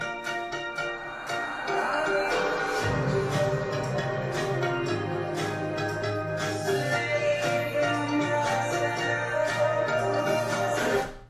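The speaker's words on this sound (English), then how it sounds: "Now we're going to play the song." A full song plays back with its vocals removed by a center-channel extractor, leaving a dense, continuous backing-track mix with steady drums and bass. The remaining vocals are faint in the background and the sound stays loud throughout.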